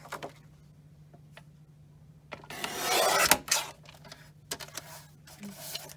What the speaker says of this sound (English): take my 8 by 12 sheet, and I'm going to cut 3 3/4 inch strips